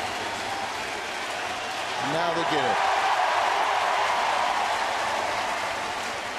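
Baseball crowd at a Phillies at Cardinals game in St. Louis applauding and cheering after a grand slam, calling for a curtain call; a broad, sustained ovation that swells midway, with a commentator talking over it.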